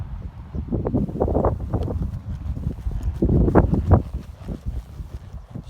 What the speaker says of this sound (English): now it looks like she's long trotting her horse